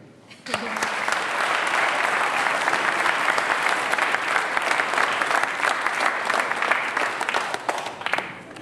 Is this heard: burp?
no